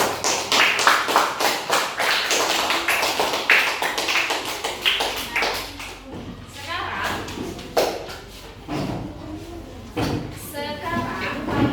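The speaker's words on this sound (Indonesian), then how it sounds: "Tepuk tangan buat Dita" Children in a multi-grade primary classroom clap together for a classmate: a dense, fast burst of hand claps up close that thins out into scattered, irregular claps, with voices talking underneath.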